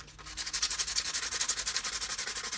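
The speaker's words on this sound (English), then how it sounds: "I'm gonna grab a piece of sandpaper" Sandpaper rubbed back and forth over a hard, brain-tanned buckskin knife sheath, giving a fast run of rhythmic, close scratching strokes with no voice.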